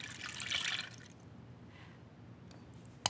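A sweetener poured into barbecue sauce for ribs: a soft liquid gurgle and trickle that swells early, then fades to quiet drips, ending in a small clink.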